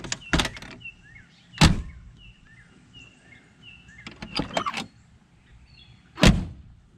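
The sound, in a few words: doors closing on 1968 Ford LTD Country Squire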